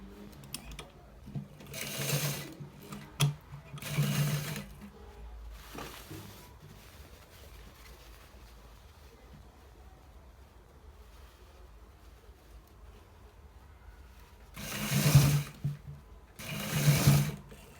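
A sewing machine stitches a designer shirt collar in bursts, four loud runs, two early and two near the end, separated by quieter stretches of faint handling noise.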